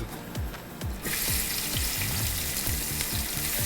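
Five medium-sized onions dropped into hot coconut oil for prawn biryani, with low stirring thumps, then a sudden bright sizzle that swells and holds steady, close and without talking.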